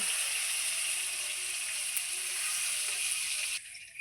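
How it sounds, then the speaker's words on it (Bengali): Eggplant slices frying in hot oil in a pan, a steady close hiss and crackle that holds evenly and then drops away abruptly near the end. "সমস্ত বেগুনগুলো সুন্দর করে ভেজে নিয়েছি লাল লাল করে"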